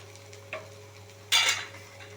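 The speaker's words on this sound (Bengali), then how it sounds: "সর্ষে বাটাটা দিয়ে আরও কিছুক্ষণ আমি মিশিয়ে নেব" Fenugreek greens and peas get stirred in a pan with a utensil, giving a soft scrape followed by a louder clattering stir, close by, over a faint quiet background with no voices.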